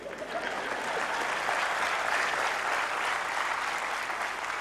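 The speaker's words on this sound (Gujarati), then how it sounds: "બીજી એક જબરજસ્ત તાળી." An audience at a motivational talk claps in a sustained, dense round of applause, steady and fairly loud throughout, with no voices over it.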